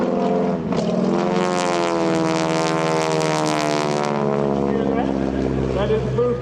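A radial-engine aerobatic airplane at an airshow drones loudly and steadily throughout, its pitch wavering and briefly sputtering with a small engine cough, with a voice talking over it.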